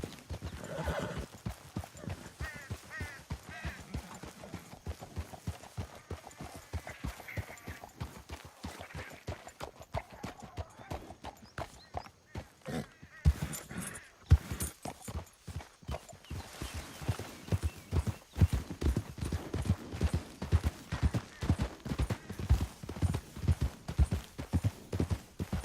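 Horses in the Western video game Red Dead Redemption 2 gallop with rapid, rhythmic clip-clop hoofbeats that build louder toward the end, with a whinny mixed in and no speech.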